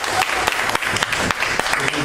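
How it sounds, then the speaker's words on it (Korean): A church congregation claps together in a sustained round of applause, dense and even, heard close within the worship hall. "박수."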